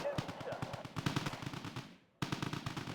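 Rapid rifle and machine-gun fire from Marines and Pathfinders in the Wargame strategy game, quick repeated cracks in dense bursts, briefly fading to near silence before the shooting resumes.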